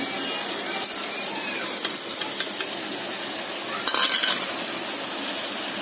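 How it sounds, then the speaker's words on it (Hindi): Spices, tomatoes and fish for a tangy fish curry are stirred in a hot pan, giving a continuous close hiss and sizzle with scattered light scrapes and clinks. "अब हम इसे मिक्स करेंगे।"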